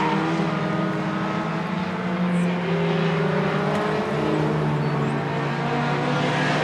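Mini stock race cars roar around a short track during a heat race, their engines making a continuous layered drone that rises and falls slightly as the pack passes, with no speech.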